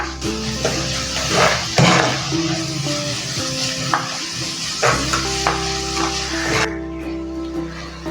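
Onions sautéing with salt in a pan for Malabar fish curry, a steady close sizzle under scraping and stirring with an occasional clink of the utensil, while faint music plays along.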